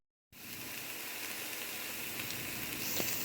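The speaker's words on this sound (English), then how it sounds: "I'm just going to mix all that up and then let my onions get brown" Onions and cumin seeds fry in a pan for a black-eyed bean curry, a dense hissing sizzle that starts abruptly after a moment of silence and holds steady, slightly swelling toward the end, with no speech.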